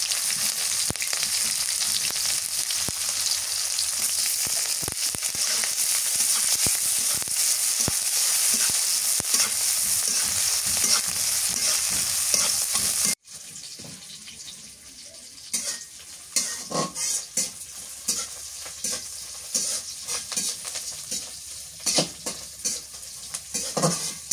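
Onion and green chili fry in a pan, hissing and sizzling steadily while a utensil stirs and scrapes, the sizzle dropping abruptly midway to quieter scattered clinks and stirring knocks.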